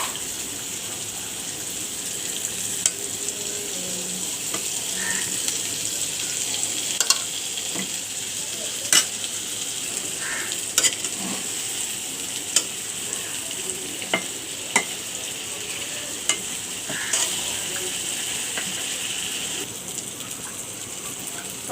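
Chicken roast pieces go into a pan of fried spice paste, giving a continuous bubbling sizzle with intermittent sharp clinks and scrapes of a stirring spoon, close and fairly loud.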